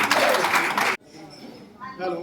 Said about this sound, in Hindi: खुशी का इजहार करते हुए अपनी तालियां उनको